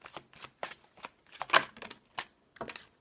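Oracle cards being shuffled by hand, a series of crisp riffling and flicking bursts close to the mic, with a quiet pause between each burst and no talking.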